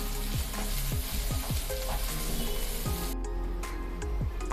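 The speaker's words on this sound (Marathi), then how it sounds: "मिडियम गॅसवरती कांदा छान भाजून घेऊया" Onion fries on medium gas, giving a dense, continuous sizzle up close, with several quick scraping stir strokes across the pan.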